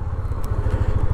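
A 2023 Honda CB300F motorcycle engine runs steadily up close, a low pulsing thrum with a faint tick, with no speech.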